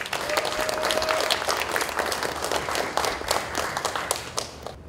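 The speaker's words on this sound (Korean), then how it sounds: "박용규 박사님을 큰 박수로 모시겠습니다" Applause from the audience at a 2023 academic conference in Gwangju on the Donghak Peasant Revolution, greeting a speaker, heard as brisk, steady clapping that holds for several seconds before thinning slightly.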